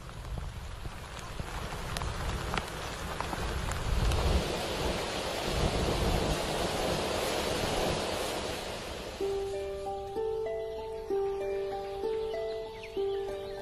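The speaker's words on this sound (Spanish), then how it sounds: "Aquí, las tormentas de verano son muy comunes." A summer thunderstorm brings steady heavy rain hissing on the ground with low rumbles of thunder underneath, loud and continuous before easing off as music rises over it.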